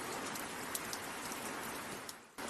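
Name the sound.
rain beating on building windows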